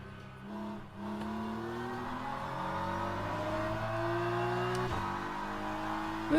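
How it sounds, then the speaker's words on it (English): Race car engines in a racing video game whine loudly and steadily, pitch climbing through the gears in rising sweeps with brief dips at each shift, close and continuous. "You're a loud car."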